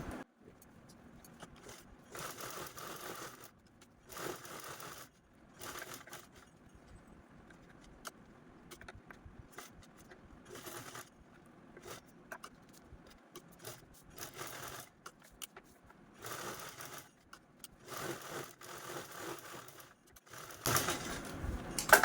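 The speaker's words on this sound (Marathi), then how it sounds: "इथपर्यंतच स्टिच करून घेणार आहोत" A sewing machine stitches sack cloth for a scissors organiser in repeated bursts of rapid rattling clatter separated by short pauses, fairly quiet and close, with no talking.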